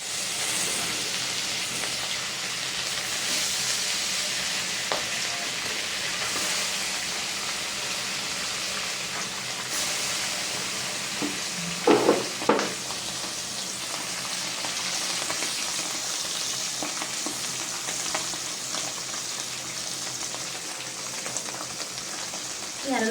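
Fish frying in a pan in a home kitchen gives a steady, moderate sizzle with soft crackle throughout, plus a brief louder clatter partway through.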